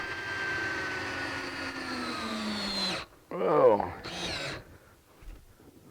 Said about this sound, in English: I do it a speedy way by using one of these screwdriver bits on my drill